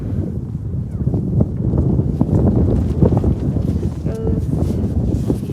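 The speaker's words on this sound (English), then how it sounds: "It's really windy, so I don't know if you can hear me." Strong, steady wind buffets the microphone throughout at Grand Prismatic Spring in Yellowstone, a loud continuous low rumble with gusty bursts and no clear talk.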